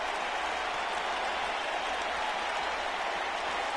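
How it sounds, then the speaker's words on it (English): A passionate arena crowd in a video game cheers and applauds in a dense, continuous roar that holds steady throughout, with no voices standing out. "I don't remember the last time I heard a more passionate crowd than the one we have here tonight"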